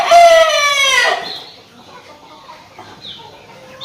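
A rooster crows loudly and close on a farm with Cochin and Brahma chickens, one long call followed by quieter clucking and faint farmyard noise.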